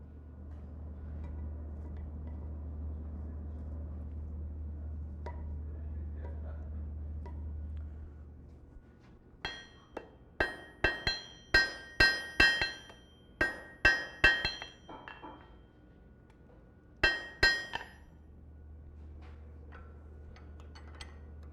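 A blacksmith strikes metal with a hammer at a smiths conference, a run of sharp ringing blows in quick bursts, then a short pair of strikes after a pause, close and clear over a low hum.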